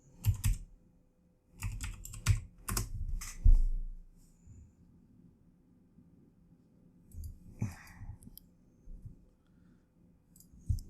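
Someone types on a computer keyboard in irregular bursts of close, crisp key clicks, with pauses and a few scattered taps later on.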